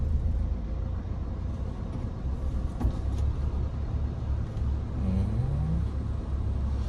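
Manual-transmission car on a driving-test road course pulling away and accelerating, a steady low engine rumble heard from inside the cabin with a brief rising whine near the end.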